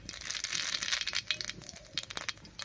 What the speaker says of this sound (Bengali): রাঁধুনিটা এরকম হাত দিয়ে একটু ঘষে দেব